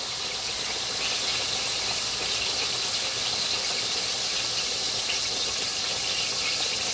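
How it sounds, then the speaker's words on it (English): Water pours steadily into a small kid's cup, a continuous bright hiss and trickle of even loudness lasting several seconds, close by with no talking. "I'm gonna put some water in here"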